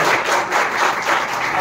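A crowd at a missionary gathering claps in a dense, continuous burst of applause, loud and close, filling the whole short moment with no voices on top.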